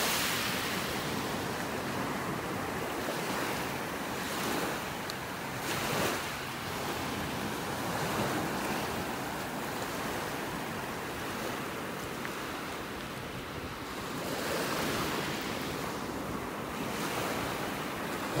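Ocean waves roll onto a beach in North Naples, Florida, a continuous broad wash of surf with gentle swells and some wind noise on the microphone, steady and fairly full without any voices.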